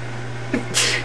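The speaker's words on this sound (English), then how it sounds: "I'm going to sneeze here in a minute." A single close, sharp sneeze, led in by a quick breath intake, over a steady low electrical hum indoors.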